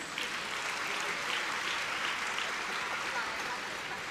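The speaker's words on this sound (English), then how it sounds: "let's have a huge round of applause to our proud graduates" An audience at a dental college graduation day applauds the graduates, a steady, even wash of clapping heard from some distance, fairly soft and unbroken throughout.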